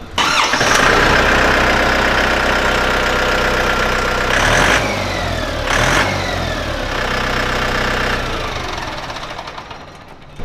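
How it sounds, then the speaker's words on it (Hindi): A tractor engine cranks and catches, then runs at a loud, steady, chugging idle close by, with a couple of brief surges in revs. "क्या शानदार आवाज़ आ रही है ट्रैक्टर की।"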